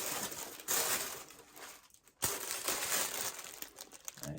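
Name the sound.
ripping open Dior perfume packaging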